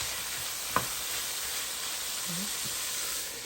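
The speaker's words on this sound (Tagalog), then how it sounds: "Use oil to stir fry the ingredients." Pork and other ingredients stir-fry in hot oil for pork adobo, giving a steady close sizzle and hiss with a sharp utensil clack early on and faint light scraping.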